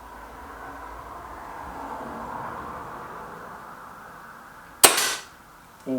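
A single sharp report from a Remington T-Rex rifle at a target range rings out near the end after a stretch of steady outdoor background noise, followed by the start of another sound.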